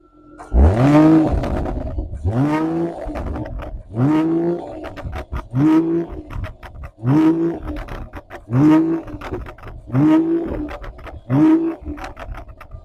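A Mercedes-AMG GLE 53 inline-six engine revs repeatedly through its exhaust, about eight rising roars in a steady rhythm, loud and heard from behind the car with no talk.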